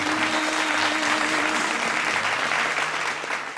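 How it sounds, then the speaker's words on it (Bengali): Studio audience applause on a Bengali TV family game show, steady dense clapping filling the clip and tapering slightly at the end, with no talk over it. "জোরে হাততালি হয়ে যাক"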